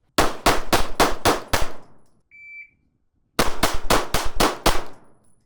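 Two rapid strings of six loud Glock pistol shots each during shooting drills, separated by a pause with a brief electronic timer beep.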